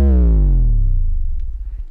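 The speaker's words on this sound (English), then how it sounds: "what I did is I duplicated this first 808, and then I made the glide longer so that when I play it, I'm just stepping down a bunch of notes." 808 bass with a long glide stepping down through notes, one deep booming tone sliding steadily lower and fading over about two seconds, loud and alone.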